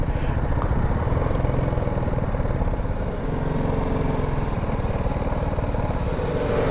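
A motorcycle engine idles after a ride of about seven or eight kilometres, a steady close putter of rapid, even mechanical pulses that stays loud and unchanging throughout, with no talking over it.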